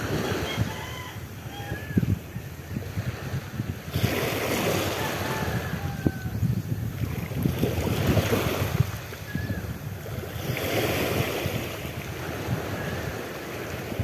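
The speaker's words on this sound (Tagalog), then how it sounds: "Medyo may hangin siya ng konti." Steady wind blows across an open shoreline with a soft wash of waves, gusting louder at intervals, with faint chirps in the distance.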